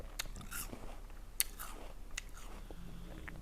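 Someone bites into and chews an Australian apple up close, a few crisp crunches followed by soft, quiet chewing with no talk.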